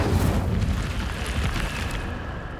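An Incendio fire spell cast in the video game Hogwarts Legacy, a loud roaring whoosh of flame with a heavy low rumble that holds steady and then fades slightly.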